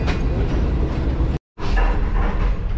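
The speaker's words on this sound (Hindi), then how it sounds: "तो ट्रेन जो है वो कराची कैंट रेलवे स्टेशन से निकल चुकी है" The Green Line Express train rumbles along just after pulling out of Karachi Cantt station, a continuous rolling rattle from inside the train that drops out abruptly for a moment before resuming.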